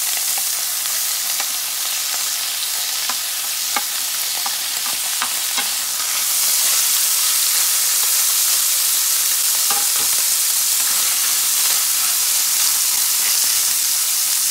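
Salt fish frying in hot oil for a stew, a loud, continuous crackling sizzle close by, with scattered pops and a brighter, hissier surge of spitting fat midway, and no talk.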